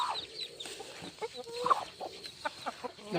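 Several hens cluck in short, scattered bursts over a low farmyard background, with no one speaking.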